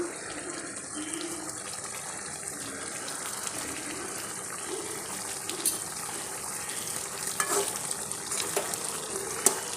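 Chicken chukka simmers in a pan, a steady soft bubbling and faint sizzle with occasional light clinks, continuing evenly and quietly for several seconds without talk.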